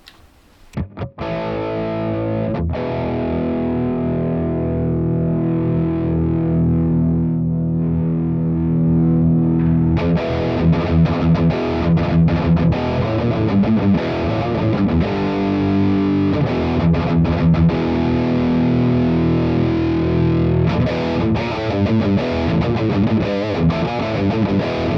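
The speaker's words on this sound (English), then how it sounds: "distortion pedal on." Heavily distorted electric guitar through a compressor and budget distortion pedal plays loud chords and riffs, with a brief pause near the start and sustained, gritty tone throughout.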